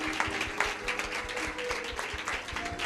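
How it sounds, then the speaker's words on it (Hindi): Church congregation clapping together after a sermon, a steady dense patter of many hands at moderate distance, continuing evenly throughout without pause. "एक बार जोर से ताली बजाएं"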